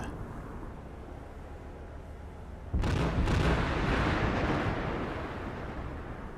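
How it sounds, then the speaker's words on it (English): Heavy 5-inch naval guns aboard an aircraft carrier open fire in a combat game, a sudden loud booming onset after a steady low rumble, then sustained roaring blasts that slowly ease off, with no talking. "And the 5-inchers have opened up."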